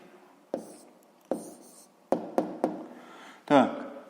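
A pen on paper writes out a maths answer in a series of short scratchy strokes, six or so distinct taps and scrapes spaced unevenly, close and fairly quiet.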